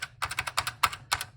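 Keystrokes clatter from a Hall Effect keyboard whose space bar is missing its spring, fast irregular bursts of close, crisp clicks and clacks in quick succession with no talking.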